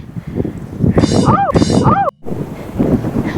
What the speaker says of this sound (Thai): ดูลมแรง